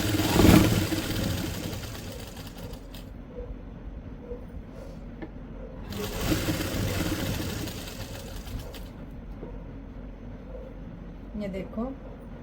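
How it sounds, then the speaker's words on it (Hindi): A sewing machine stitching a co-ord set runs close by in two bursts of steady mechanical whirring, with a pause between them. "हम इस तरह से यहाँ से मिलाते हुए इसे यहीं से शुरू कर रहे हैं हमारी स्टिचिंग को, ताकि हमें बार बार मशीन को उतारना ना पड़े"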